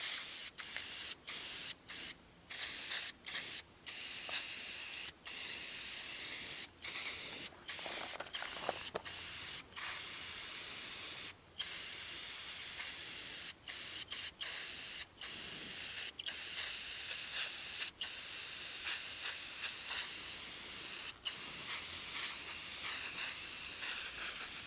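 Aerosol paint sprayed onto a laser-cut steel shooting target during maintenance on an outdoor overland course: a steady loud hiss in repeated bursts, broken by many short pauses between passes, with no talking.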